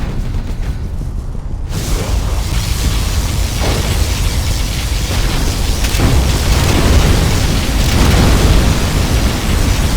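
Particle cannon explosions in Command & Conquer Generals Zero Hour, a continuous loud roar of booming blasts and rumbling that fills the whole stretch without pause.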